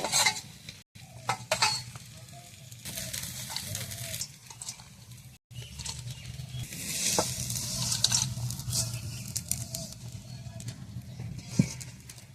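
Helencha greens fritters frying crisp in a wok over a wood-fired stove, a continuous sizzle with stirring and scraping of the pan, utensil clinks and faint background voices.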